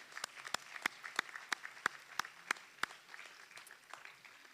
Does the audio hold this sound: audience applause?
yes